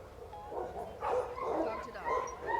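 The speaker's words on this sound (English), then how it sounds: "dog is still very stimulated by the dogs in the kennel across from us" Dogs in a kennel bark and yip in a series of short, muffled calls from a little distance, mixed with whimpers and background noise.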